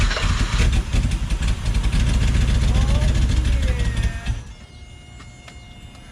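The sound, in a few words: BMW E24 6 series car engine starting and idling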